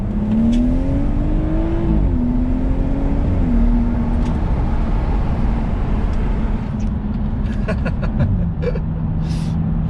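A BMW M240i with a valved exhaust revs up and accelerates hard nearby, its loud exhaust note climbing, dropping back, then holding a steady roar.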